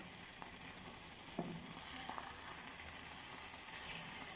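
A batter of bread and milk sizzling steadily in a frying pan, with a soft continuous hiss and a few faint clicks and taps of a utensil.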